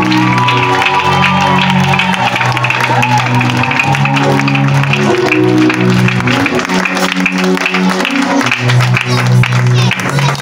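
A congregation at a Saturday church service cheers, shouts and claps for joy over loud sustained music, a continuous roar of voices and applause filling the whole stretch.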